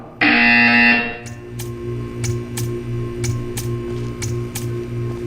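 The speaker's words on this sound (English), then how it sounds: "You will hear a buzzer." Buzzer in the video game Portal 2 blares as one loud, harsh electronic tone lasting about a second, followed by a quieter mechanical hum with faint regular ticking.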